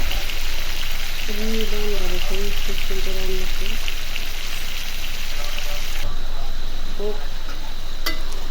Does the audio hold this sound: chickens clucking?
no